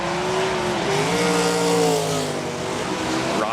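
A pack of 360 sprint cars rim riding around the dirt oval at Park Jefferson Speedway, their engines blending into a continuous, loud, wavering roar with no break in the sound.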